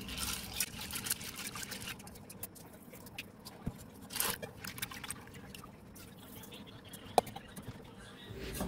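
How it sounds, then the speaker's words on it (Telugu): Soaked chana dal is rinsed in water by hand, making faint, soft trickling and sloshing with light patters and an occasional small clink in a quiet room. "3 సార్లు బాగా మంచి నీళ్ళతో కడిగేసుకోవాలి."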